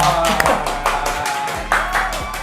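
A few sharp hand claps ring out amid a studio product-review segment, spaced irregularly over a low steady hum, with a voice talking alongside.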